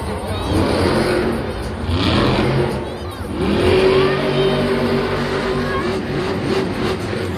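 A monster truck at a Monster Jam arena show in Denver, its engine roaring and revving in surges with tire noise, loud and continuous while a commentator talks over it.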